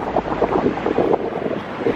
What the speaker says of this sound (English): Whoa, that wind is strong.